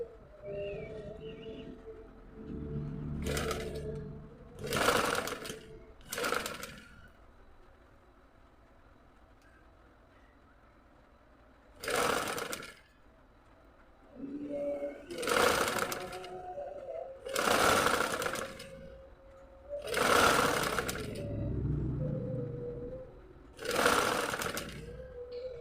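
A sewing machine stitching a zipper onto a piece of clothing runs in repeated bursts of a few seconds each, with quiet pauses between them, close and clear with no talk.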